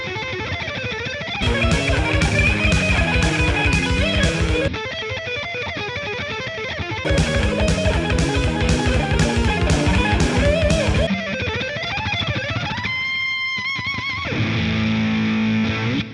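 Distorted electric guitar arpeggios played with a picking technique, heard as fast, continuous cascading note patterns in alternating sections with different tone and density. The guitar is loud and up front throughout, with no talking.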